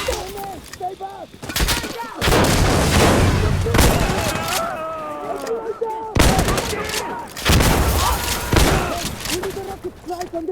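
In Insurgency Sandstorm, loud bursts of rapid gunfire and heavy booms come in dense volleys mixed with shouting voices and game chatter.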